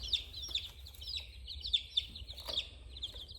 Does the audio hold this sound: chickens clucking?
yes